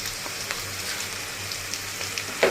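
Onion and green chilies fry in a kadai, giving a soft, even sizzle with faint crackles and a low background hum, ending in a brief knock near the close.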